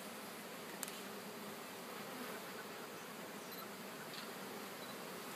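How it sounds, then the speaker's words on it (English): Honeybees buzz steadily inside an opened beehive while two hives are being combined, a dense, even drone close by and alone, with no talk over it. "I'm going to try to smoke these bees down a little bit"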